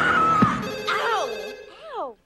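A phone rings with a loud, warbling electronic ringtone, tones sliding up and down through several bursts before cutting off, close and clear with a voice mixed in.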